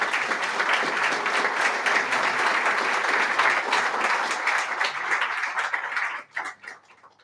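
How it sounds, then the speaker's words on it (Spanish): Audience applause at a poetry recital by Rafael Cadenas: dense, sustained clapping from a full hall, even and continuous for about six seconds before thinning out into a few scattered claps. "Gracias por los aplausos."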